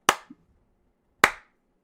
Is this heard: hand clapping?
yes